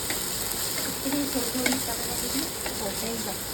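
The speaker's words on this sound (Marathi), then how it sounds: "नंतर कांद्याची पात आणि कांद्याची पात परतून घ्यायची" Spring onion greens sautéing over high heat in a pan, a steady dense sizzle with occasional stirring scrapes and a faint voice underneath.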